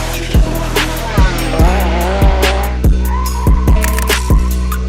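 A Mercedes Formula 1 race car screams past repeatedly, high-revving engine notes rising and falling with sharp rhythmic gear shifts or bumps, loud and close with busy trackside noise.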